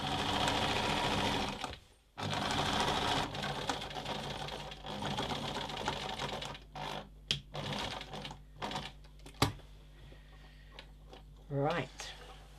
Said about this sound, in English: One more seam to do, and a little bit of top stitching